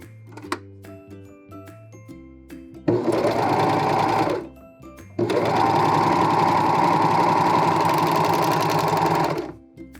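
A serger sews the shoulder seams of a knit turtleneck shirt dress, whirring in a short run followed by a longer steady run of stitching, with faint handling noises between them.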